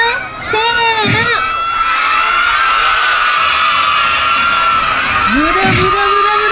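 A crowd of children in a live superhero stage show audience shouts and cheers together, loud and sustained, with bursts of yelling and whoops rising above the dense crowd noise.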